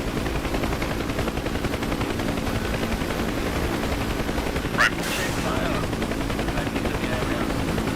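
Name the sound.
Apache helicopter rockets firing in DCS World video game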